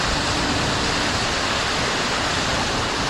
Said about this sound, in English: Apart from the rushing water